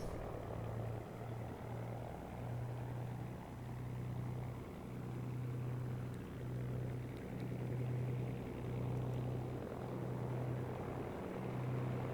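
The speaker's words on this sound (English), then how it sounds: "I'll just shut up and watch the takeoff, as it is rather nice with the sunset in the background" Aircraft engine droning steadily at a distance during a sunset takeoff, a low pulsing hum holding at an even level throughout with no voices.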